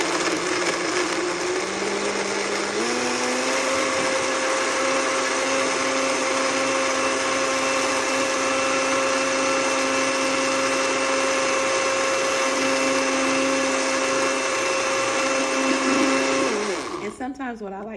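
A two-speed blender whirs loudly and continuously while blending a green smoothie, its pitch stepping up early on and holding steady before winding down abruptly near the end.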